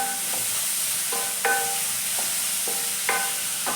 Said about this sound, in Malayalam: ഇത് നമ്മൾക്ക് ചൂടായ എണ്ണയിലേക്ക് ഇട്ട് കൊടുക്കാം. അപ്പോൾ ഈ ഉള്ളി നമുക്ക് നന്നായി ഒന്ന് വഴറ്റിയെടുക്കാം.